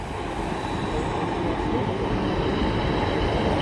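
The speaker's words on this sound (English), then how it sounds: "we have a Metrolink arriving in" A Manchester Metrolink tram rumbles in close by at Manchester Airport, a steady rolling rail noise with faint wheel squeal and clatter, no voices.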